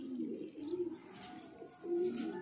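Pigeons in a rooftop loft give soft, low repeated coos in short rolling phrases, fairly close, with a few faint chirps behind them.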